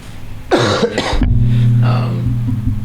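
Two harsh, close coughs in quick succession, followed by a low hum and a softer throaty sound.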